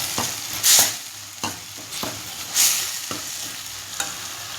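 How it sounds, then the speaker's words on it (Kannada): Tomato mixture with turmeric frying in a pan for pepper rasam, a steady close sizzle broken by several scraping stirs of a spoon, with no talking. "ನೋಡಿ, ಇದು ಚೆನ್ನಾಗಿ ಫ್ರೈ ಆಗಿದೆ."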